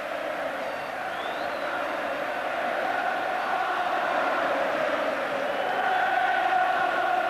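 Football crowd at the 1990 FA Cup Final replay between Manchester United and Crystal Palace, a broad roar of applause and cheering for the cup winners that swells slightly and carries on without a break.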